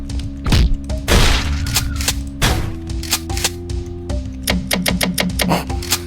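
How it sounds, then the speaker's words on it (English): A shotgun fires repeatedly in the boomer-shooter game Hand Meat Walker, loud punchy blasts spaced irregularly over a droning game soundtrack, with reload clicks between shots. "I do love the sound effect of the shotgun"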